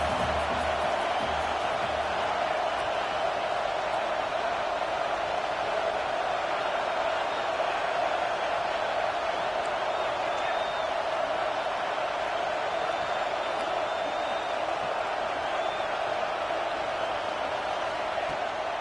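A steady roar of a stadium crowd in an NCAA college football video game, a dense, constant wash of cheering and noise lasting throughout without breaks.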